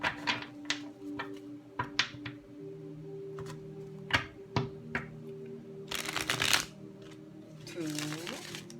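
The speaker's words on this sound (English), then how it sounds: "3 shuffles." Tarot cards being shuffled in short bursts, three rounds of quick riffling rustles standing out against a quiet indoor background, with light ticking handling noises in between.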